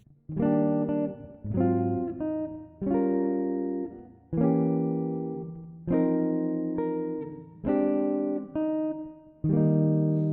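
A clean jazz guitar plays the chord turnaround of a jazz standard, eight or so strummed chords in a steady, unhurried rhythm, each ringing briefly before the next.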